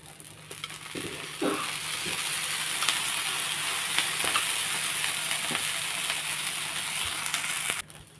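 Minapattu dosa batter frying in oil on a pan, a steady close sizzle and hiss that jumps louder just after the start and holds evenly until it cuts off near the end.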